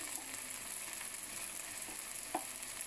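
Chili powder frying in oil for a chicken curry made with a kilo of chicken, giving a quiet, steady sizzle with a faint stir or clink near the end.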